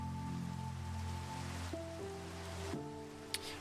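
Steady rain from the Minecraft video game falls over an ocean, a continuous soft hiss under sustained game music tones, with a brief faint click near the end and no talking.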